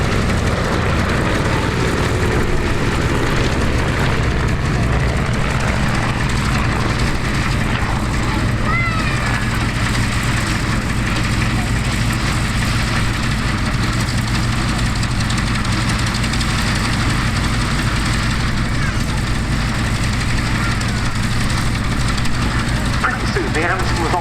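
An Avro Anson Mk.I, the last airworthy example, flies a display at the Cosford Air Show, its piston engines droning loudly and steadily throughout while a commentator talks over the sound.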